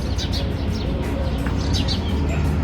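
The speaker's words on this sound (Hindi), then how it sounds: "यहाँ पे रोज इतने सारे कबूतर और ये मोर आते हैं।" Pigeons and peacocks chirp and call in short bursts over a constant low rumble of outdoor background noise, with soft cooing underneath, in Rajasthan.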